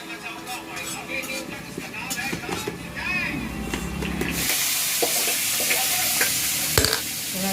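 Turmeric and spices are stirred through hot oil in a rustic village kitchen where desi chicken is being cooked. Clinks and scraping come first, then a loud, steady sizzle surges in and continues under occasional stirring knocks.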